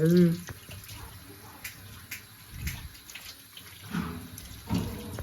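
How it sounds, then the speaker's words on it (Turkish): Tomatoes being washed under a running kitchen tap, a steady splashing water flow with occasional louder surges, heard close alongside background voices. "ilk önce şuradan yıkanıyor domatesler"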